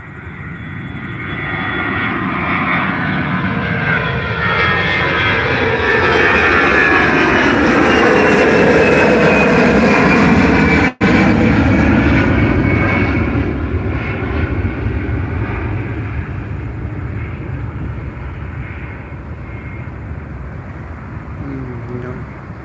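A regional Embraer jet, likely an E175, roars loudly and steadily at Albany International Airport, its broad engine noise swelling to a peak midway as it passes close, then slowly fading over about twenty seconds with no talk.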